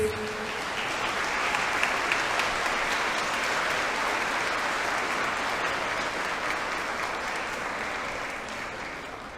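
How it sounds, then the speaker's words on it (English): The audience at a commencement ceremony gives honorees one last round of applause, a continuous, even wash of clapping from a large crowd that holds steady and eases slightly toward the end. "Honorees, I ask you to please stand so that we give you one last round of applause"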